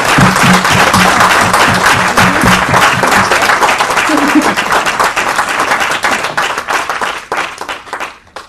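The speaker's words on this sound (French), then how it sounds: "je vous propose d'applaudir très très fort Thierry et Stéphanie" Loud, sustained audience applause fills a hall after a meeting, dense clapping with some voices mixed in, thinning and fading toward the end.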